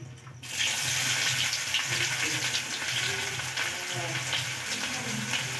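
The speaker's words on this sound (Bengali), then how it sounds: "পেঁয়াজগুলোকে একটু নাড়াচাড়া করে ভেজে নেব" Chopped onions frying in oil with dried chili and a bay leaf, a loud continuous hiss and sizzle after a brief quieter start, with faint background sounds.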